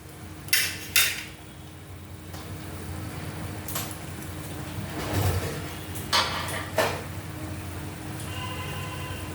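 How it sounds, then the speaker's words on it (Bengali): A cooking pot being covered with its lid: a few sharp metallic clanks and knocks stand out over a steady low kitchen hum, with a final clatter as the lid settles. "এখন একটু ঢেকে দিই, সিদ্ধ হয়ে যাবে তাড়াতাড়ি।"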